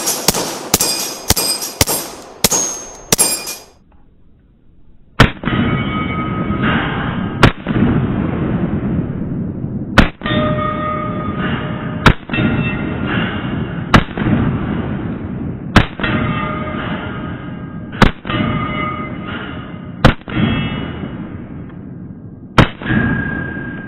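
An Atlas Hyperion 2011-style pistol fires about a dozen sharp, loud shots outdoors at a range: a quick burst of several at the start, then single shots spaced every couple of seconds, with ringing echo filling the gaps.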